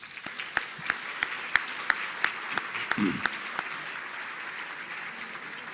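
Sparse applause at a formal historical society dinner honoring former justices, with distinct individual claps ringing out at a slow, uneven rhythm, a short murmur of voices partway through.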